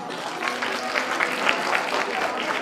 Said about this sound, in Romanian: încă o dată aplauze